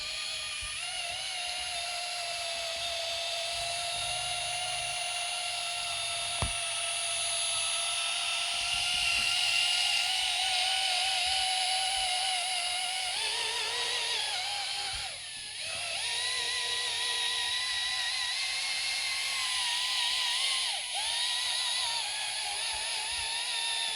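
A cordless drill polishing an oxidized car headlight lens whines continuously at high speed, its pitch dipping briefly a few times as it works against the surface.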